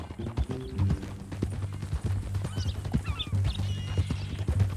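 In Red Dead Redemption 2, horse hooves clip-clop in a steady, moderately close rhythm, with a brief whinny and faint clatter mixed in; no voices.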